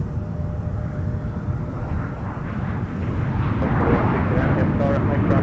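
Jet airliner from Sun Country taking off on runway 17 at Minneapolis–Saint Paul airport, a steady broad engine roar that grows louder and fuller toward the end, with faint radio chatter beneath.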